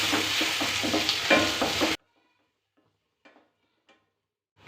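Chopped onion fries in oil with bay leaf, stirred with a spoon for egg gravy: a close, steady sizzle with rhythmic scraping strokes for about two seconds, then near silence with a few faint taps.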